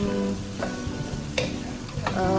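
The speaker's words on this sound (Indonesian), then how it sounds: "Kita aduk sekejap." Cauliflower florets and broccoli stir-frying in a pan, a steady close sizzle with a few sharp scraping stirs of a utensil at intervals, alone without talk.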